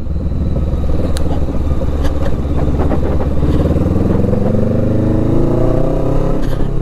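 Motorcycle engine fitted with a new exhaust, running continuously during a ride with a steady low drone and rising revs, close and loud, with wind buffeting an uncovered microphone.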